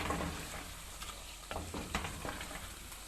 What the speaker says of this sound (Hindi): अब गोश्त हम अच्छे से भूनेंगे